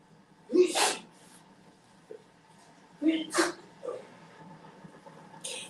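A person sneezes twice, about three seconds apart, each sneeze a sharp burst with a short intake of breath before it, fairly close against a quiet room.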